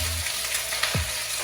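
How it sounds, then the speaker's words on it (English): Lobster pieces and claws sizzle and crackle in a hot pan, a steady, moderately loud frying hiss with a brief clatter of stirring partway through. "You got to hear that nice crackle, that sizzle."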